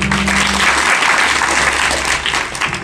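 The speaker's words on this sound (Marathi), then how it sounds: "टाळ्या वाजवा सर्वांनी" An audience at a devotional kirtan gathering claps in a dense, sustained burst, with a low background hum fading early and no speech over the applause.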